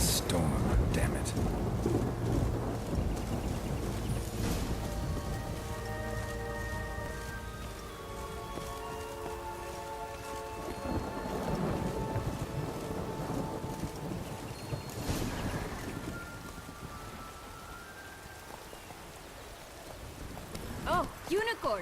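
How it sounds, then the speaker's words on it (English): A thunderstorm with steady rain in The Witcher 3: Blood and Wine's fairy-tale land, with rumbling thunder rolls rising and fading over a constant downpour, alongside tonal game music. "Storm, damn it."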